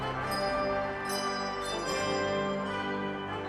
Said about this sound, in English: This 32-member handbell choir concert will feature some of your favorite holiday